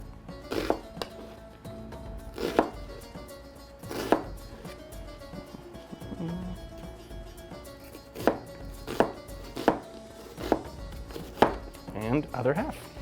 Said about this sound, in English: half of a chopped onion there